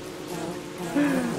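Killer bees buzzing in the survival video game Don't Starve, a short, steady insect drone that swells slightly louder near the end, heard alone.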